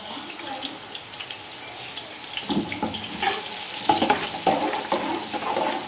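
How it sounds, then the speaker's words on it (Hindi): Onions frying in hot cooking oil for a beef yakhni pulao, a steady bright sizzle with occasional stirring scrapes and clatters, close and fairly loud with no voices. "प्याज को हम अच्छी तरह फ्राई करेंगे"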